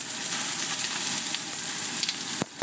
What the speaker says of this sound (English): Dropping the onions into the wok brings down the temperature